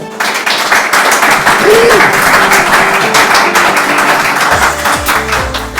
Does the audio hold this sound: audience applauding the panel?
yes